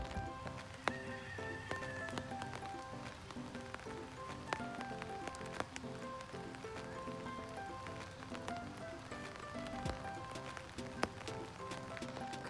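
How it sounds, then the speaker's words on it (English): Horses move around a farm animal sanctuary pasture, with faint hoof clops and occasional whinnies heard at a distance. "Couldn't get too close to the horses today, but that's a good thing."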